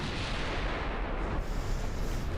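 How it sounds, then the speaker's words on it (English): A 20-inch battleship shell strikes a super dreadnought in the naval game Ultimate Admiral Dreadnoughts, giving a dense, sustained rumbling roar of impact and explosion that fills the whole stretch at steady loudness, with no voices. "we took a 20-inch hit with it and shrugged it off"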